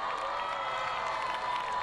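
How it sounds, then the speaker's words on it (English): A school audience applauds and cheers two student government members, a sustained even roar of clapping mixed with shouts and whoops, moderately distant. "Okay, big round of applause for those two."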